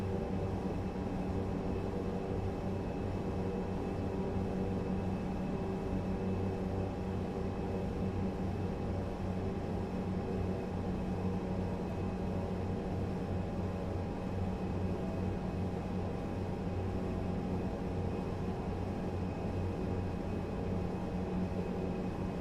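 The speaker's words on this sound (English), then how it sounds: "I really like the way that Beechcraft 18 sounds." Steady droning hum of a Beechcraft 18 twin propeller engine in a flight simulator, a constant low even tone that holds unchanged throughout, with no talking.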